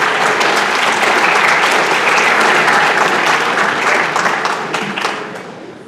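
A crowd claps steadily at a school academic awards ceremony, many hands blending into a loud, even roar of applause that holds for several seconds before gradually tapering off.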